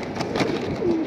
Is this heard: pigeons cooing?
yes